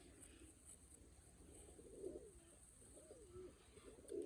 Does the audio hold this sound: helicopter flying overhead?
no